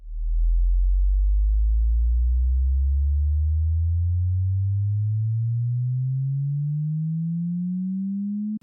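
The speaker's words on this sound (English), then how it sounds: "Then I added this bass riser." A pure sine-wave bass riser for an electronic music track, a smooth continuous tone sliding slowly upward in pitch from deep sub-bass, steady and loud, ending with a sharp click.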